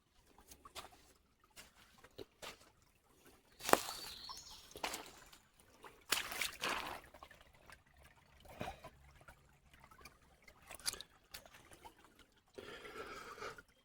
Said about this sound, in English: You can see the water dripping out there from out of the ground.